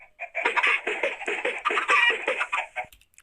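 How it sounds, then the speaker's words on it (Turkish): Chickens clucking close by in a rapid, busy series of short calls, several birds overlapping with no other sounds. "Çıktığımızda çıkıyorlar tavuklar."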